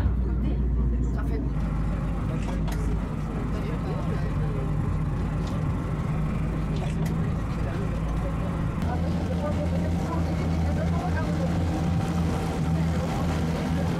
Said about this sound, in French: le chauffeur est en train de mettre en route les deux moteurs en bord de 60 chevaux chacun